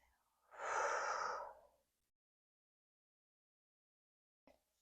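A single slow, audible exhale during a yoga flow, a soft breathy whoosh lasting about a second, close and alone, followed by near silence.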